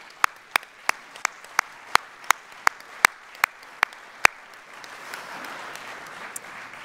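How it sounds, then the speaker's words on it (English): Audience at the Conwy Sports Awards 2018 ceremony claps: a string of sharp, evenly spaced hand claps rings out fairly close, then gives way to a softer, diffuse wash of applause. "So, ladies and gentlemen, a big round of applause to Carrie-Anne Pearce."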